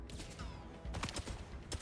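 Rapid gunfire bursts in the video game 007 First Light, dense overlapping shots crackling in quick succession across a short combat moment.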